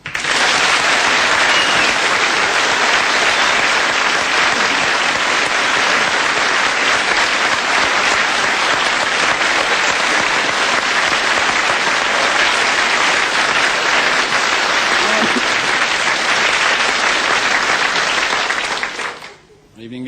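A studio audience welcomes Paul Hogan with loud, sustained applause that holds steady for about twenty seconds and then cuts off abruptly.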